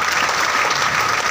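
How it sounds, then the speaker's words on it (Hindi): An audience claps loudly and continuously, a dense burst of applause for a sponsor at a business gathering, heard alone without talk. "एक जोरदार तालियां चाहूँगा"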